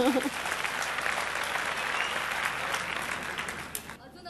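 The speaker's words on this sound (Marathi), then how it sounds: "जरा प्रोत्साहन म्हणून आम्हा दोघींसाठी एकदा जोरदार टाळ्या वाजवा." An audience at a Mangalagaur women's gathering in Sangli bursts into loud, sustained applause of many hands clapping together, dense and continuous before cutting off abruptly at the end.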